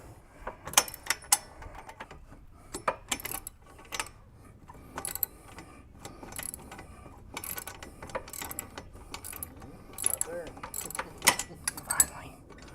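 A ratchet wrench loosens a long 9/16 bolt on a Harley-Davidson Road King during head pipe removal, making rapid clicking runs in repeated bursts, close and fairly quiet.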